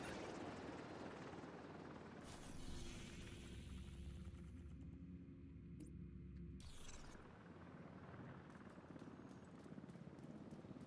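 A helicopter in a video game's Dark Zone gives a steady rotor rumble and whir, with a louder mechanical passage partway through before easing back.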